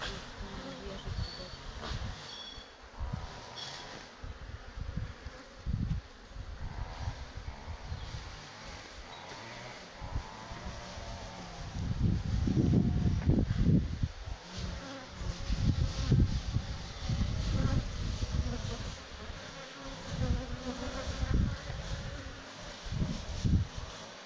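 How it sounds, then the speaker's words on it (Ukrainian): Bees from bee packages buzz continuously around the listener, a droning hum that swells louder midway as insects pass close, with occasional soft sounds in the background. "Бджоли. Сьогодні злі чи не дуже Роман"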